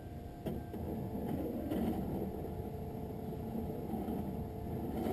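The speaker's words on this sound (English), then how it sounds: "the calipers are going to come down and trace the shape of your left lens onto your prescription lens" Optical lens edger tracer tracing a lens shape, a quiet, steady mechanical whir and hum with a few faint clicks near the start.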